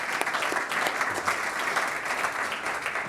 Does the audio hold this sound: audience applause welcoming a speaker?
yes